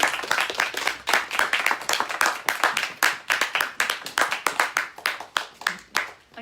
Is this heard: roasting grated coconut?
no